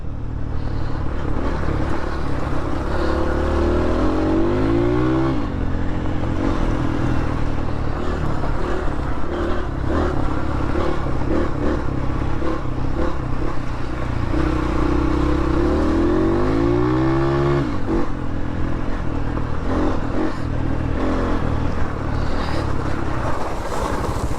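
Dirt bike ridden around a track, its engine loud and close throughout, with repeated revving climbs and throttle swells and steady mechanical roar, no talk.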